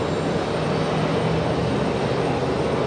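United airliner at Raleigh-Durham International Airport, a loud, steady broadband engine roar that holds constant throughout without pause.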